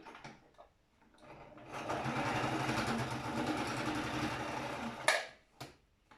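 A sewing machine stitches a fabric face mask in one sustained burst of several seconds, whirring fast and steady, with a sharp clack near the end and quiet handling before and after.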